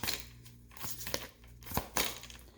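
A deck of tarot cards is shuffled by hand in close, papery riffles and soft slaps, in uneven bursts with short pauses.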